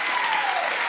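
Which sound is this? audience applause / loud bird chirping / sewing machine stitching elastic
audience applause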